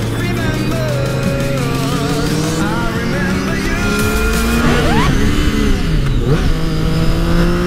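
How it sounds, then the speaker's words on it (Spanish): A Triumph Daytona motorcycle accelerates hard on a race circuit, its engine note climbing steadily and loudly close by while other engine sounds and brief tyre noise rise around it, with no talk over it. "¡Esta moto anda un montón!"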